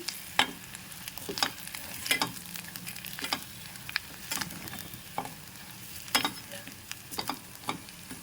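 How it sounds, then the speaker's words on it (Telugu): Continuous soft sizzle of coconut powder frying in oil on low flame, with occasional sharp clicks of a utensil against the pan. "దీన్ని ఈ ఈ నూనెలో కాసేపు ఫ్రై చేసుకోవాలండి"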